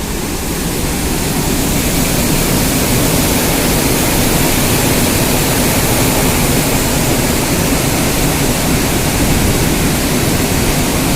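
Water pours through two opened gates of an eighteen-gate dam on the Brahmani river, a loud, unbroken roar of rushing flow that fills the whole stretch without pause, with no talking.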